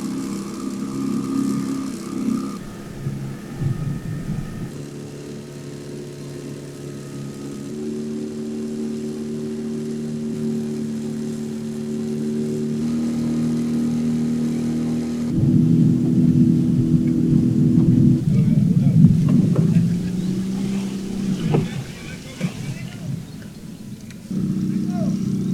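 A fishing boat's motor drones steadily on the ride back to Taganga, shifting pitch as the throttle changes, while people talk over the engine.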